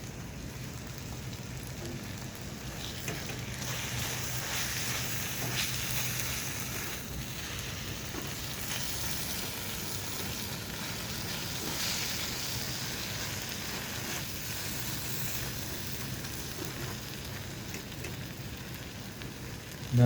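Tawa kaleji with finely chopped green chillies sizzles steadily on a hot tawa, a continuous even hiss like light rain that holds at a moderate level throughout with no talk.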